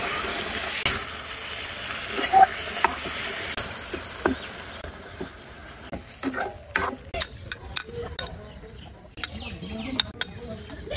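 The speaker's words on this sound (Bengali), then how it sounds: "সুন্দর মতো কষিয়ে নিচ্ছি। নাড়তে থাকবো।" Stir-frying of spices with cabbage and tomatoes in a pan, with faint sizzling and scraping spoon-stir clicks coming in irregular bursts that turn busier toward the end.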